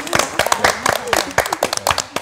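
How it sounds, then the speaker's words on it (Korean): A short round of hand clapping from a small group, quick uneven claps lasting a couple of seconds, close and fairly loud. "박수"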